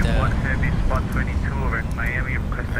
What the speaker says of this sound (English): Reversers engaged.